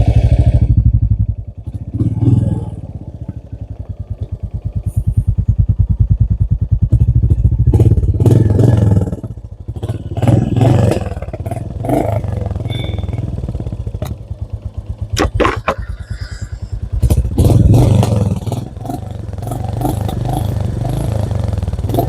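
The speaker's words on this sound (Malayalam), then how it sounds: "ഇതിന്റെ എക്സോസ്റ്റ് സൗണ്ട് കൂടെ കേൾപ്പിച്ചിട്ട് നമുക്ക് ബാക്കി കാര്യത്തിലേക്ക് പോവാം." A Royal Enfield Classic 350 motorcycle runs with its engine in neutral, its exhaust thumping steadily and loudly close by with a few sharper blips and rattles over about twenty seconds, no talk heard.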